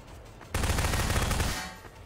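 Rapid automatic gunfire in the Prop Hunt video game, a loud dense burst of shots lasting about a second after a quiet start, then tailing off.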